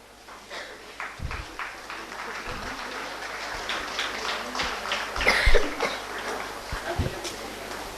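Audience clapping at a school annual function, a steady scatter of hand claps rising to a louder swell midway, with a few coughs and shuffles in a large hall.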